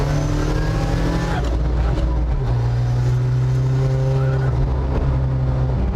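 A 2020 Volvo P1800 Cyan cruises in fifth gear, its engine holding a steady, fairly loud drone from up close with smooth tonal shifts throughout.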